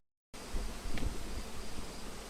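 A steady, close buzzing hum of many honeybees flying in and out of a hive, continuous and fairly quiet, with no talking.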